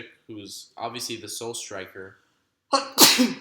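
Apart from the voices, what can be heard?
sneeze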